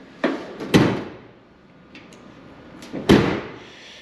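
The trunk lid of a 1965 Oldsmobile Cutlass shuts with two solid thumps, a lighter knock first and then a heavier closing slam a couple of seconds later, close by with no talk.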